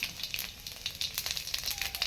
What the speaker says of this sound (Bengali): সেই তেলেতে আমি পাঁচ ফোড়ন একটু দিয়ে দিচ্ছি